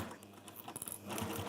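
A domestic sewing machine stitches through thick velvet, running in a steady rapid rattle, pausing briefly as it reverses, then whirring on again close up.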